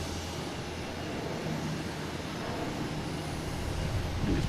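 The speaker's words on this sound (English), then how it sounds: "Next taking off is a United heading to Chicago in A319." A United Airbus A319 airliner takes off from Boston Logan bound for Chicago, heard as a steady, distant jet roar that builds slightly toward the end.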